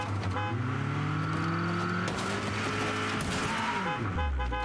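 Car horn honks from a small convertible car, an MX-5, in the zombie survival video game State of Decay 2, with a steady engine hum and a pitch sweep as the car moves, loud and alone.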